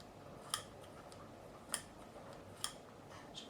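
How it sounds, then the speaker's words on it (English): A potentiometer on a 1983 Burny Les Paul Custom guitar gives three or four sharp, faint clicks spaced about a second apart in a quiet room. "Everything is working, bar this pot is clicking again."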